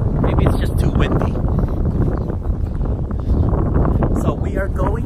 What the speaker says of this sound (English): Maybe it's just too windy.